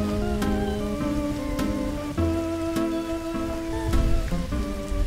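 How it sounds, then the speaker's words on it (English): Steady patter and hiss of a rainstorm in the Roblox video game, with sharp clicky drop hits at irregular intervals over sustained game tones, fairly loud and close, no talk. "Can this rainstorm just stop already?"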